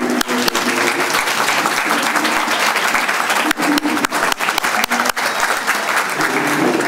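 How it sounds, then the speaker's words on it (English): Dense, sustained audience applause fills a graduation ceremony hall, with a few sharper individual claps standing out near the end as the clapping carries on steadily without speech. "most of the graduates were clapping, so that's a good sign"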